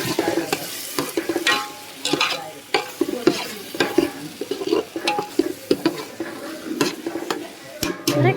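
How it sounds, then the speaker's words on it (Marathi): Masala with red chilli powder being sautéed in hot oil, a steady sizzle broken by repeated scraping strokes of a spoon stirring against the pan, close and clear with no talking. "तर हा मसाला थोडासा जरा परतून घेते."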